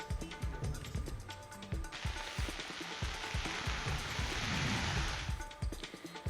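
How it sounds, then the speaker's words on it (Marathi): Heavy rain pours down in Ambernath, a steady broadband hiss that swells louder through the middle and eases again, with faint low thumps and background noise running underneath throughout. "अंबरनाथमध्ये पावसानं जोरदार हजेरी लावली"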